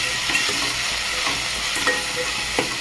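Chilli powder, turmeric and spices being stirred in a pan for a curd chutney, with a steady sizzle beneath scraping strokes that come every second or so.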